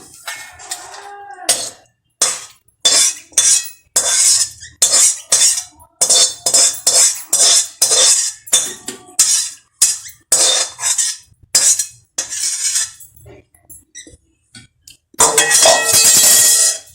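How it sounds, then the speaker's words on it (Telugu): Cooked tamarind and okra curry spooned into a serving dish: a long run of short, irregular metal-on-dish clinks and scrapes, close and fairly loud, with brief quiet gaps and a denser clatter at the end. "ఇదిగోండి కూరని ఇప్పుడు నేను డిష్లోకి వేస్తున్నాను"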